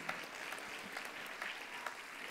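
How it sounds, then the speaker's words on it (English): Audience applause for students at a school annual day event, steady dense clapping from a crowd throughout, moderately faint and evenly spread without talk. "these brilliant girls deserve a big round of applause"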